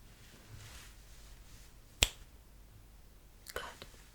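Two crisp finger snaps in a quiet ASMR hearing test, one sharp snap near the middle and a softer, slightly doubled snap a moment later, close to the ear over faint background hiss.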